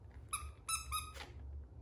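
A squeaky dog toy shaped like a cowboy hat with ropes gives three or four short, sharp, high squeaks in quick succession up close, over a low room hum.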